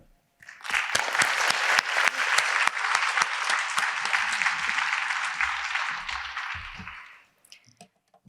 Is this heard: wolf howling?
no